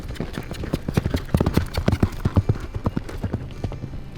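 Horse hooves clip-clop in a steady, fairly quick rhythm, crisp and close, with a faint low murmur running under them.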